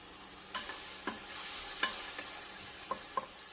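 Baby bok choy cooking in a pan on low heat, with a soft, steady sizzle and a few scattered clinks and scrapes as it is stirred, fairly faint and with no voices.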